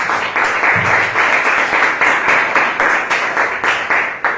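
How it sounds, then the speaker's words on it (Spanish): Loud, close congregation applause in a church service, rhythmic clapping in a steady beat with crowd noise underneath, sustained throughout. "Un aplauso,"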